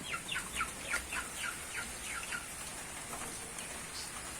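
Steady rain falls on a farmyard where ducks and chickens are kept, a constant hiss with occasional bird calls, including a short run of chirps near the start.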